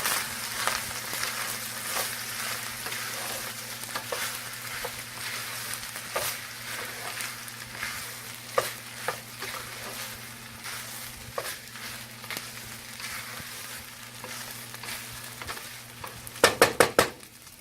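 Rice being stir-fried with ketchup in a pan for Chinese takeout-style fried rice, a steady sizzle with scraping spatula strokes and a few sharp utensil clicks near the end, no talking.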